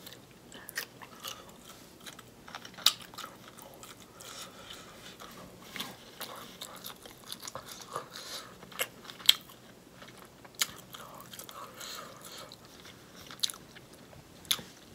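Shrimp being bitten and chewed close to the mouth during a Jamaican food mukbang, with irregular soft wet crunches and clicks and a few sharper bites over quiet background.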